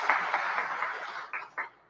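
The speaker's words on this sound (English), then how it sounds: "All right, some claps over here." Scattered applause from a legislative chamber audience at a governor's State of the State address, a short patch of clapping that fades into a few last isolated claps.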